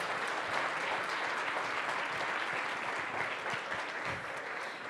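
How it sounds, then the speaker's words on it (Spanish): An audience at an education talk applauds in a steady, even stretch of clapping, moderately loud and continuous with no voices on top. "El aplauso, sí, Ernesto."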